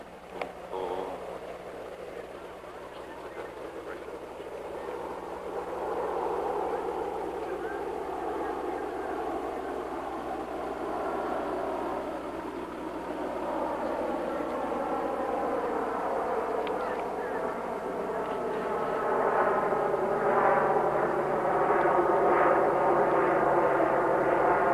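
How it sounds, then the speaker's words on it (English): Aircraft engine drone at an airborne training school, a steady broad roar that builds and grows louder toward the end, with faint talk in the background. "Sounds like a helicopter, like boom."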